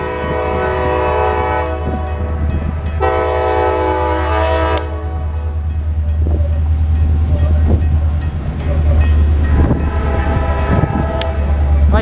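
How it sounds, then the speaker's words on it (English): A southbound local freight train passes close by in Marion, Ohio, sounding loud sustained horn blasts over a steady heavy rumble of rolling cars. "Ben, the southbound local."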